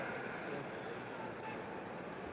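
Cartoon chicken clucking and honking sound effects blare from a baseball stadium message board during a 1984 Braves game, a steady, noisy burst amid crowd murmur with no clear words.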